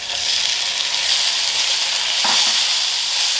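Tablespoon of garlic hitting a pan of browned potatoes, sizzling loudly and steadily throughout, with one brief stir or scrape past the midpoint and no voices.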